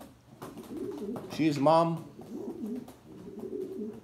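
Racing pigeons in a loft coo in low, rolling, repeated calls throughout, heard under someone talking nearby.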